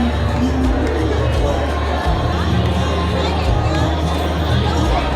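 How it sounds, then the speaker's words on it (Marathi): A dense crowd murmurs and chatters at the Vruddheshwar Mahadev Mahashivratri yatra, a constant loud hubbub of many voices with occasional sharper shouts and knocks. "गर्दी बघा।"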